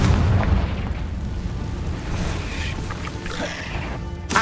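Confringo fire spell blasts in Hogwarts Legacy, a loud rumbling explosion that opens the clip and decays, followed by crackling debris and a sharp burst at the end.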